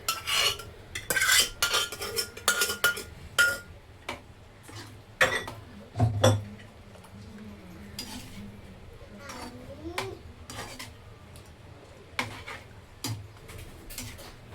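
A spoon stirs chicken and dal in a metal pot, giving sharp clinks and scrapes in uneven bursts, busiest at the start and then sparser. A faint voice is heard now and then.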